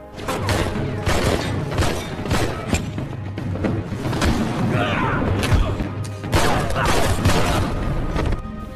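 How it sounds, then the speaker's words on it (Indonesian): Gunfight in an action film, with repeated booms and thuds of gunfire and crashing impacts running through the whole stretch at a steady, loud level under a dense soundtrack. "Namun sayangnya ia dipergoki oleh anak buah Jopik, sehingga terjadilah baku tembak di sana."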